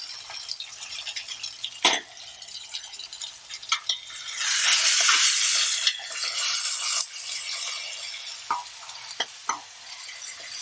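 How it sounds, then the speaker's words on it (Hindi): Onion-tomato masala being stirred and mixed in a pan for Punjabi chicken curry, with spoon scrapes and knocks over a steady sizzle that swells loudly midway, heard up close with no talking. "अच्छे से मिक्स कर लेंगे।"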